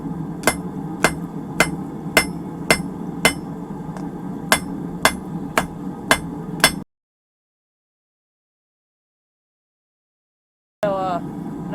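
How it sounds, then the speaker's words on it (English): A hammer forges a bolt into a Mjolnir pendant head on an anvil, with about a dozen sharp, ringing blows in steady rhythm, followed by a silent gap and brief clinking. "first thing we're going to do is start forging down our head here."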